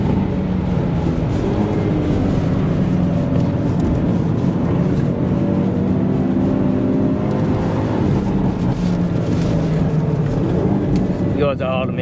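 A Hyundai i30 N sedan driving on a race track while coasting behind another car, with a steady engine drone and road roar throughout and a brief higher whine near the end.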